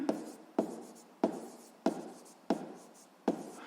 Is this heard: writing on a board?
yes